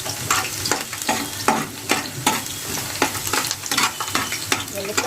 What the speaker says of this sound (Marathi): हे बघा, आपला लसूण चांगला फ्राय झालेला आहे.